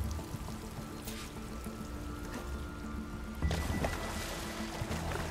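Splashing and sloshing water as a character swims and moves through water in Horizon Forbidden West, a steady murmur with a louder splash surge partway through.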